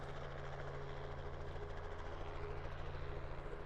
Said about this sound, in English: the helicopter remains airborne the whole time